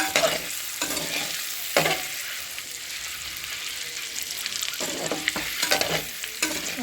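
Eggs frying with chili powder in a little oil in a pan, a continuous sizzle broken by bursts of scraping as the mixture is stirred, close and fairly loud.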